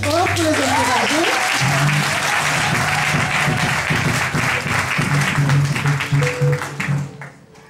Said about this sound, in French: applaudissez très très très très fort pour les encourager